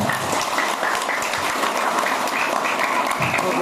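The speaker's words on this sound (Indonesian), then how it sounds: "Tepuk tangan dulu." Dense, steady applause from a crowd of elementary school students at a Maulid celebration, loud and continuous throughout with no pauses.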